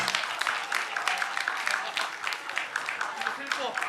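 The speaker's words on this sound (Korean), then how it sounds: "박수 함께 보내주시기 바라겠습니다" An audience at the 2022 Yeonggwang County youth participation festival applauds an award winner, with steady, dense clapping that continues throughout the clip.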